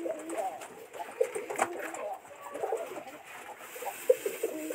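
Low, rolling pigeon coos repeat in a steady stream, close by, with a voice speaking briefly over them.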